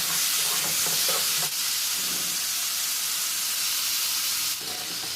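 Guar pods and potatoes are stir-fried in a pan, with a steady, close hiss and sizzle running throughout and a few soft stirring scrapes.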